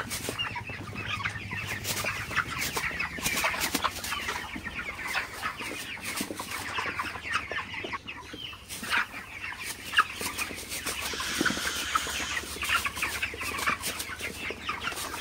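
Broiler chickens cluck steadily throughout, a dense flock murmuring and chattering together at close range, with no talking.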